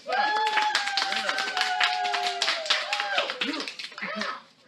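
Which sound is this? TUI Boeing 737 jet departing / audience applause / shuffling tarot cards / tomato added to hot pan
audience applause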